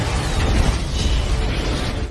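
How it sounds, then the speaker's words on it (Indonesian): A car blows up after being struck by a missile, a loud, dense roaring rumble that fills the whole stretch without a break and with no voices over it. "lalu menembakkan rudal hingga membuat mobil Puri meledak"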